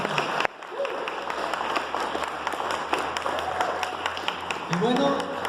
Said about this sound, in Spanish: Le podemos dar un aplauso a Dios.